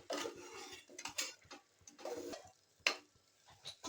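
A spoon scrapes and clinks against a pot as raw chicken pieces are stirred into a curry base, in short uneven bursts with a sharper knock near the end.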